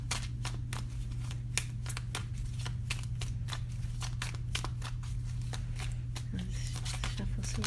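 Rapid, rhythmic riffling of cards being shuffled, crisp repeated snaps over a low steady hum, close and continuous.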